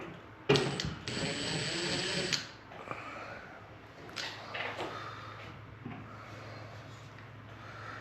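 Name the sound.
removing screws while installing a ceiling fan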